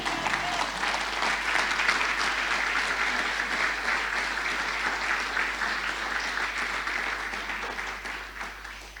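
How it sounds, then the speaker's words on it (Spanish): Church congregation applauding during a Spanish-language sermon, steady dense clapping that fills the room without a break, loud and close, tapering slightly at the end. "Den un aplauso al Señor."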